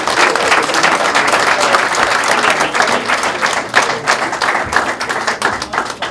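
An audience at a 2021 heritage award ceremony honoring Shabba Ranks bursts into loud, dense applause, with many hands clapping continuously and then slowly thinning toward the end.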